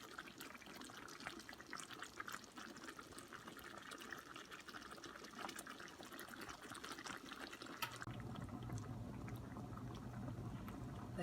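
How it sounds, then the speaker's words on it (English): Pork in salsa bubbles and simmers in a pot, a faint, steady bubbling that grows slightly fuller near the end, with no talking. "Look at our carne de puerco simmering with its salsita."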